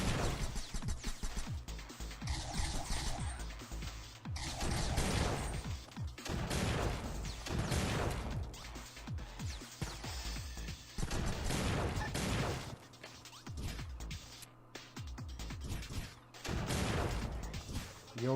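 Repeated heavy gunfire bursts and crashing impacts from assassin sniper rifles in a modded online shooter match, loud and dense with overlapping shots and explosions throughout, no voices.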